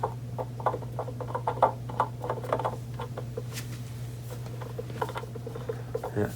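A 1998 Honda XR80R with play in its piston gives quick, light, irregular clicks and taps, close up over a low steady hum.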